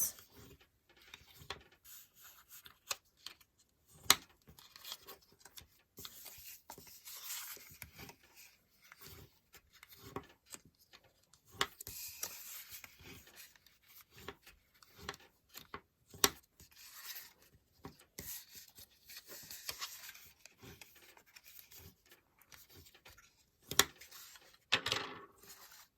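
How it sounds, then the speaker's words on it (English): Score lines on paper are burnished by hand with a tool, giving faint, close rubbing and scraping strokes in an uneven rhythm with occasional light taps, quiet throughout and with no talking. "Now I'm going to burnish all of these score lines."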